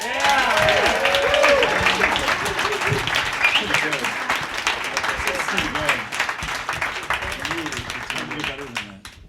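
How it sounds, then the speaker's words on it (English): Loud audience applause at a comedy show, dense clapping and some cheering that gradually tapers off, with voices talking over it. "we need to give another round of applause"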